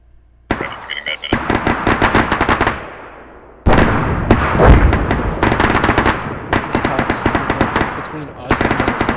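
Suppressed rifles firing in rapid succession during a Mad Minute drill at fireteam and squad training, loud, dense overlapping bursts of shots that continue nearly throughout with a brief lull midway.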